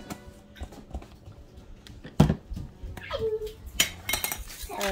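A spoon scoops garlic into a dish in a kitchen, with metal clinks and a sharp clack against the dish. Close and moderate in volume, with some talk in the background.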